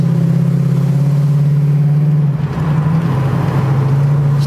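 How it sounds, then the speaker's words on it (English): A convertible car, freshly finished after a seven-year build, drives along with a steady, loud, close engine drone that holds an even pitch throughout, with a brief dip midway. "I can't believe this car is driving."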